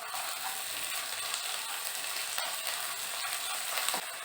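Onions frying in a pan as ginger garlic paste is stirred in for a cluster beans sabji, a constant soft sizzle with light scraping and stirring clicks, close and fairly quiet.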